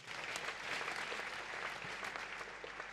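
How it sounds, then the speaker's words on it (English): A church congregation claps steadily for about three seconds, a dense, even wash of applause from a large indoor crowd. "Clap for Jesus Christ."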